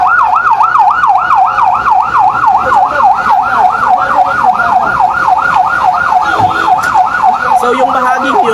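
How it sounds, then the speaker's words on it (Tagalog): A loud, rapidly wailing fire truck siren cycles continuously up and down at a fire in Cotabato City, close and dominant, with faint traffic and background noise beneath. "numating na ang ikalawang truck ng mga bumbero"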